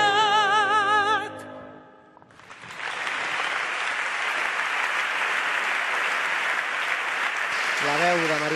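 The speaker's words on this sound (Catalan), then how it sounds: "rebent els aplaudiments del públic d'aquestes més de 400 persones que omplen la Llotja de Mar" More than 400 people applauding a song with piano at the Llotja de Mar, sustained loud clapping filling the hall between a singing voice that fades out and a voice that starts at the end.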